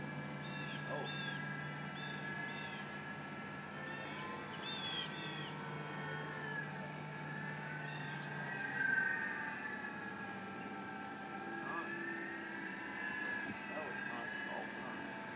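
A Viper Pacer RC model airplane flying overhead, a thin, distant propeller drone that rises and falls as it passes, with people talking nearby.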